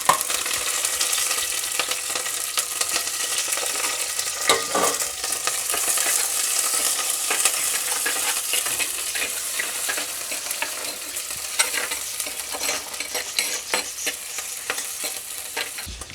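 Garlic, shallots, green chilies and curry leaves fry in hot oil for an anchovy fish curry, a steady loud sizzle with occasional spoon scrapes and stirring clatter throughout, no talking.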